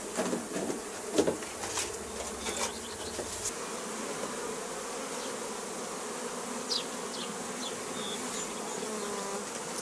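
Honeybees buzzing around an open beehive during varroa mite treatment, a dense steady hum of many insects, fairly quiet and continuous, with a few sharper close passes and knocks early on.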